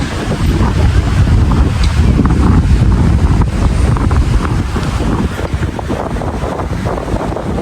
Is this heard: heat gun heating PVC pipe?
no